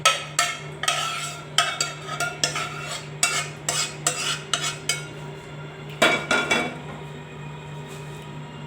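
Fruit custard with chopped fruit including chikoo is stirred in a bowl with a spoon, giving a steady run of close clinking and scraping strokes with short pauses, heard alone without talk, over a low steady hum.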